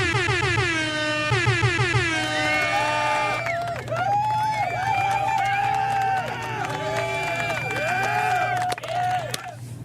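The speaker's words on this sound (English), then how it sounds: "Let's see if we can hear this air horn." Loud air horn sound effect blasting in repeated bursts, then a wavering, pitch-bending horn call continuing over a crowd hubbub and cheering bed, fairly close and dominant throughout.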